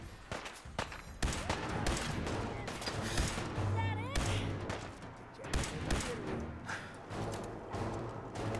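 Fallout 4 gunfire in rapid, loud bursts of shots with thuds and crashes mixed in, irregular and dense across the stretch, with a voice talking underneath at times.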